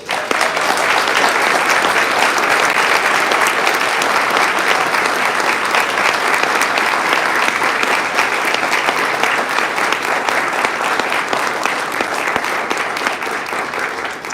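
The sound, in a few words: audience applause at swearing-in ceremony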